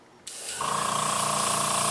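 An airbrush blasts a steady spray of paint while building a model of the refit Enterprise, starting with a quiet hiss that jumps louder and settles into a continuous, close, bright rushing flow with no talk.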